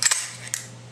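An AK rifle's metal top cover is removed in a few sharp, close metallic clicks, one quick pair followed by a single click, over a faint steady hum.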